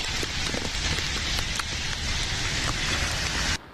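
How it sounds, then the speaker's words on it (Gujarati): Heavy rain pours down during a monsoon downpour with a red alert in effect, a dense, steady hiss of drops on surfaces, loud and close, cutting off sharply just before the end. "मुंबई में 2 दिन से लगातार तेज बारिश हो रही है"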